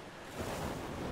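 A waterfall in the ARK video game gives a steady, dense rushing roar of falling water, even and fairly loud across the moment with no voices.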